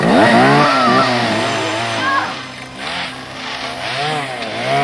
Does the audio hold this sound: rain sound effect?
no